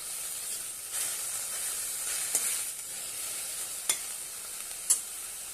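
Amaranth greens stir-fry with salt in a pan, giving a steady soft sizzle and hiss with a few faint clicks of utensil on pan, close and quiet, with no voices.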